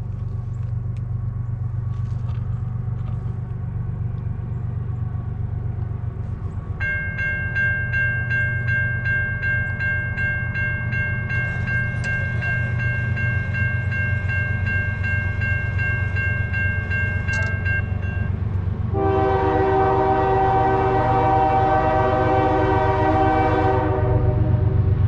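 A northbound freight train on main track one passes close by with a steady rumble of rolling cars. It sounds a long multi-tone horn, then a second, louder horn blast near the end.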